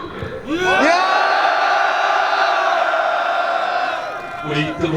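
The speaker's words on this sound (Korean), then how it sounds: "잠시 힘찬 함성의 시간 3초 하시기 바랍니다." A crowd at a Korean press conference protesting a delay to the Serious Accidents Punishment Act for small workplaces lets out a loud, sustained rallying roar of shouts and whoops lasting about three seconds, then it fades.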